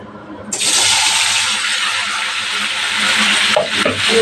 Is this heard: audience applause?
no